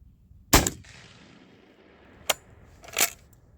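A Geha 12 gauge shotgun loaded with 2.5" black powder shells fires a loud sharp shot, followed after a pause by two more quick cracks, outdoors with a faint tail between.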